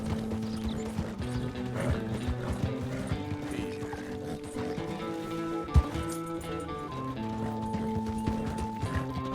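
Horse galloping in Red Dead Redemption 2 near a train at a station, with steady hoofbeats under continuous in-game music and mechanical rumble and one sharp thump midway.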